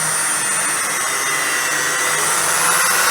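A machine polisher works car paint with a steady high whirring drone, close and continuous, with a constant hiss and slight rises in pitch as the speed is eased up.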